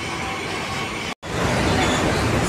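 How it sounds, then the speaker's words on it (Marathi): Slow local train to Bombay Central heard from inside a carriage, a loud continuous rumble of wheels and car noise with a split-second dropout in the middle. "स्लो ट्रेन मिळाली आहे"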